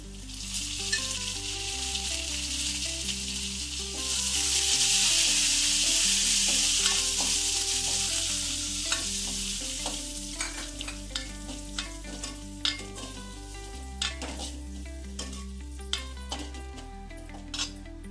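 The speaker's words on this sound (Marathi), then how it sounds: "फोडणी चांगली झालेली आहे, मी डाळ टाकते।" Garlic and asafoetida sizzle in hot oil as a tempering for lentil curry, a steady crackling fry under repeated clinks and scrapes of a spoon stirring in the pan, close and clear.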